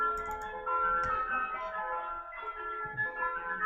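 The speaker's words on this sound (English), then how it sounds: "there's an ice cream truck coming." An approaching ice cream truck plays its tinkling jingle melody, fairly faint and distant, over low background rumble and scattered knocks.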